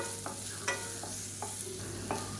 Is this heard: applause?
no